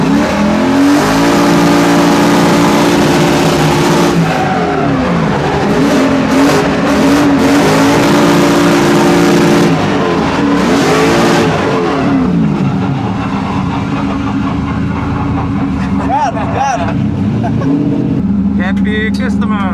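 A BMW drift car fitted with a Mercedes AMG engine roars and revs hard while carrying passengers at a drift event, the loud engine sustained throughout with tire noise and people talking over it.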